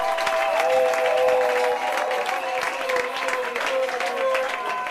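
A church congregation applauding and cheering together, a dense, sustained wash of clapping and crowd voices that fills the room at close range.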